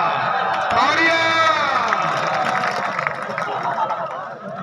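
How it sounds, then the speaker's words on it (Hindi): A crowd at a kabaddi match cheering and shouting in a sustained, loud roar that gradually thins out, with voices calling over it. "तालियां।"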